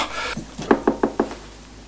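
Four sharp, evenly spaced knocks on a door in a 1968 German television crime series, loud and close, following a softer rustle, with no speech.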